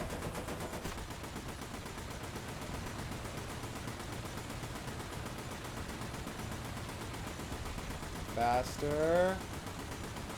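Machine gun fire in War Thunder, a dense, rapid rattle running steadily through the whole stretch with a brief louder swell near the end, and a voice speaking once.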